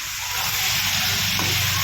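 Chole masala with turmeric is stirred in a pan of hot oil, a steady close sizzle with faint scraping of the spoon.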